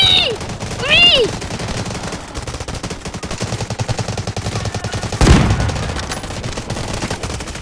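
Sniper rifle gunfire in the Delta Force video game, one sharp loud shot ringing out midway through, over dense game background noise and brief whistling tones early on.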